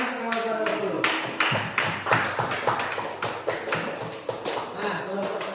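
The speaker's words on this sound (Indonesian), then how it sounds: "tepuk tangan semua orang dulu" Classroom students clapping together, a loose burst of sharp, fairly close handclaps with uneven rhythm that continues steadily before thinning out.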